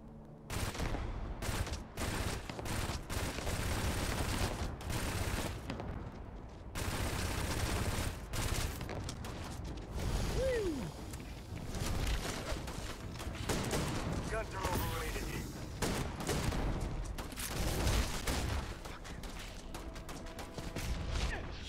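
Rifle fire in the Starfield video game, dense bursts of shots crackling through most of the stretch over a busy, loud game soundscape with a voice talking at times.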